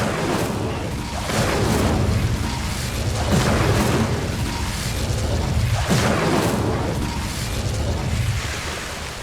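Incendio fire spell cast in Hogwarts Legacy, a series of loud whooshing fiery bursts and rumbling booms in repeated waves, with no talking.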